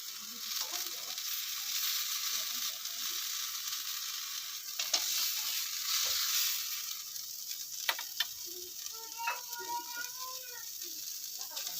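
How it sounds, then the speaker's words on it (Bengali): Tomato slices fry in a pan for an egg and tomato omelette, a faint steady sizzle with scattered clicks and scraping of utensils, quiet and close. "টমেটোটা ভাজা হয়ে গেছে, এবার আমি এটা নামিয়ে নেব।"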